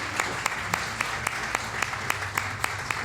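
An audience at a book presentation in Gijón applauds steadily, a dense, fairly close wash of clapping with sharper individual claps poking out regularly.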